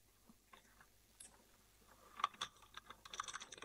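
A computer keyboard is typed on while a name is entered into a contact form, starting as a few sparse taps and building into a quicker run of light clicks, close and quiet.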